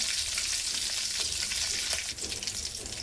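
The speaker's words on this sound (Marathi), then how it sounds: "तेल छान गरम झालेलं आहे। मोहरी टाकूया, जिरा, कढीपत्ता," Mustard seeds, cumin, curry leaves and asafoetida crackle and sizzle in hot oil for a dal bhaji tempering, a dense continuous frying hiss with small popping crackles close by and no talk.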